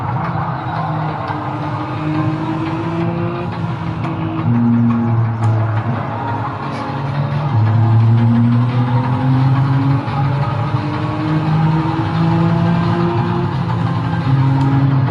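A race car in a racing video game roars close and loud, its engine revs climbing and dropping through downshifts while tires skid and squeal, all of it continuous and with no voices over it.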